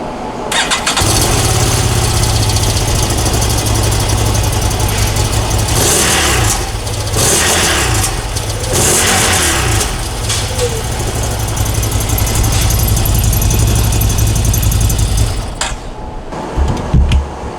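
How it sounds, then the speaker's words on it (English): A CFMOTO UFORCE 1000 side-by-side with its stock exhaust cranks and fires up, then idles and revs loudly close by for several seconds before the engine shuts off, with voices faintly underneath. "we're going to get a stock sound clip of the UFORCE 1000. This will be the stock exhaust"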